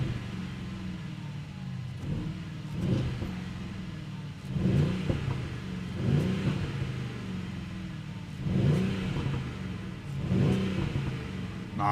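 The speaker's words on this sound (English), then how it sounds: "Beautiful AMG engine V8 rumble." A deep Mercedes-AMG V8 engine with a particulate filter revs in repeated bursts, rising and falling about every two seconds with a throaty rumble, close and loud, with no talking.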